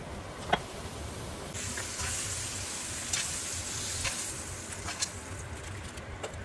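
Squid pieces fry in hot oil for calamari, giving a steady, close sizzle with a few soft clicks and pops and a hiss that grows louder partway through.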